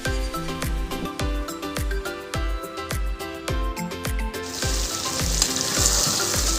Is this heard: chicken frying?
yes